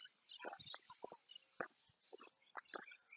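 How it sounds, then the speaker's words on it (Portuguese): Faint birdsong with varied chirps and short calls, several birds trading notes in a quiet outdoor setting. "O som dos passarinhos."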